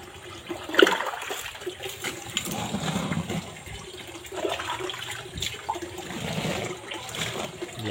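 Water pours and splashes steadily into a pot of boiling soybeans for tofu making, a continuous rushing gush with some bubbling underneath, lasting several seconds.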